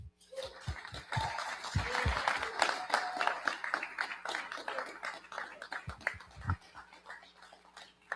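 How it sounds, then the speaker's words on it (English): Audience at a real estate investors association meeting in Omaha claps in a sustained round of applause lasting several seconds, with scattered individual claps near and far and a few voices underneath. "We give them a nice round of applause."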